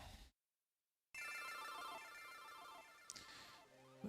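Phone ringing with an incoming call during a Pokemon FireRed game session on Switch 2, a bright electronic ringtone with layered tonal chimes that starts after a brief silence and continues steadily and close, ending with a few short beeps.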